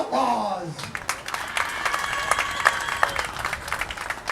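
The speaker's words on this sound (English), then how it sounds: "Thank you for cheering, ladies." Spectators at a state Legion softball opening ceremony clap and cheer for a visiting team, a moderate burst of applause with some crowd noise following a brief announcer voice at the start.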